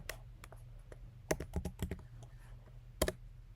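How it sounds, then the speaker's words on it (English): Password being typed on a computer keyboard while setting up a Docker Kali container, scattered sharp key clicks in short bursts with pauses between, close and fairly quiet. "we're also going to go ahead and set the password for Kali user"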